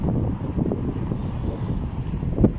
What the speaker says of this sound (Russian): Поднялся какой-то ветер.